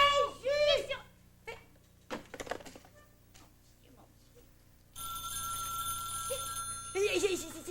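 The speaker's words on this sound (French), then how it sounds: "C'est le téléphone à moi, Creusot." An old telephone bell rings in a brief trill amid a comic 1971 French radio sketch, with voices talking and scattered clatter around it.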